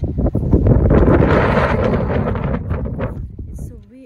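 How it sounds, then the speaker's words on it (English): Strong wind gusting at a New York playground, a loud rumbling buffet against the microphone that swells and fades, with a person talking over it. "It's so windy."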